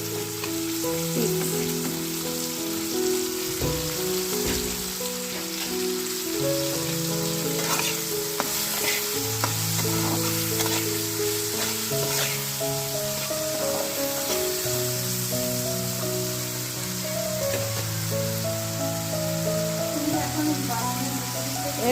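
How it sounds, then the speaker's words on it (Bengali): Potatoes fry in hot oil with a steady, continuous sizzle and crackle, close by, under a constant tonal background of music. "তারপরে আমি আলুটা ছেড়ে দিচ্ছি তেলের মধ্যে"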